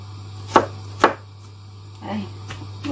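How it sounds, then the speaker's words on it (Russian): An onion is chopped with a knife in a home kitchen: two sharp, close knife strikes on a cutting board, then softer cuts and a few lighter taps, all over a steady low background hum. "мне надо порезать лучок, поджарить для картошечки"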